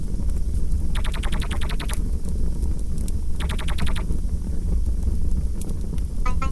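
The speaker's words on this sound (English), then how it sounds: "Another thing that was implemented this week is the sound of the dialogue system." Dialogue voice effects from a kung fu video game play as short bursts of rapid, chirpy synthetic babble, three or four separate bursts over a steady hissing background.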